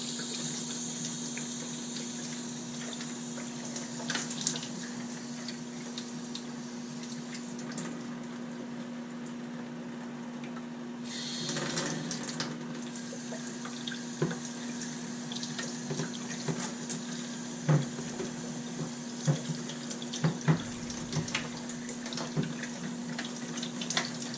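Tap water runs steadily into a sink while parts of a Fluval 406 aquarium canister filter are rinsed, a soft continuous hiss with a faint hum beneath and a few splashes and clinks as pieces are handled.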